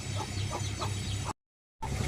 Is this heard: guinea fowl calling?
yes